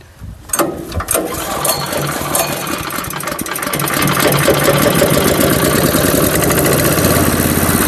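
A wood chipper's small petrol engine starts up and runs steadily, its loud mechanical rumble and rattling building and holding close by without any talk.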